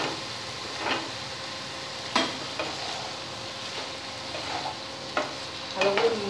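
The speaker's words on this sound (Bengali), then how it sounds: "ভালো করে মশলার সাথে মিশিয়ে নিতে হবে।" Boiled taro root stems being stirred into spices with prawns in a frying pan, giving soft scraping stir strokes at intervals over a faint steady sizzle, no talking.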